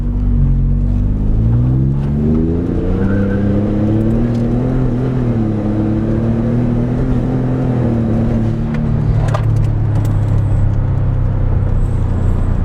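A tuned 2018 pickup truck with a 3.5 EcoBoost engine, in sport mode, accelerates hard through each gear. The loud, close engine note climbs steadily, drops at each shift and climbs again, with no talking.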